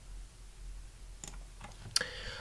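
Computer keyboard keys tapped while typing a git command, a few soft clicks followed by a sharper, louder keystroke for enter, close and quiet against a faint background hum.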